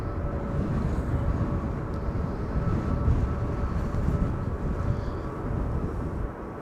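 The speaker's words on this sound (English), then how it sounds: "KLM flight 1002 is coming in from London Heathrow, A321neo" A KLM Airbus A321neo arriving at Amsterdam Schiphol in windy conditions, heard as a steady, loud, low-heavy engine roar and rumble mixed with wind, with no talking.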